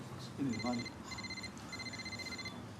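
A telephone rings with repeated electronic trill bursts in a regular rhythm, faint and a little distant, with a brief voice speaking near the start.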